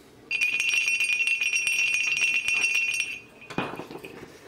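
A small metal crotal bell rings steadily with bright, shimmering jingles for about three seconds, then stops and a second shorter ring follows.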